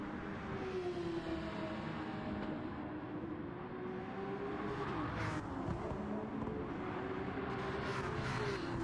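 Porsche Cup race cars in a racing video game lapping a hot track, a steady loud engine drone throughout with pitch rising and falling as the cars come around, no talk.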